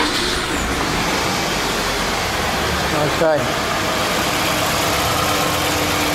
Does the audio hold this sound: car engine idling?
yes